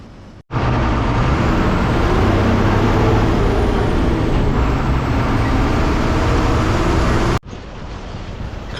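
Red state-transport (ST Lalpari) bus rolling along a bumpy rural road toward Achara, a loud steady engine and road rumble lasting several seconds before cutting off, with no clear air-brake hiss standing out.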